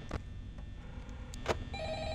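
A telephone rings in the video game Five Nights at Freddy's, a faint electronic ring under low background hum, with the ringing tone growing steadier toward the end.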